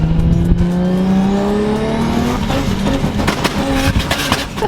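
A Lexus IS300 engine revs up on two-step launch control, its pitch climbing steadily, then a sharp popping, crackling burst follows, loud and close with no talk.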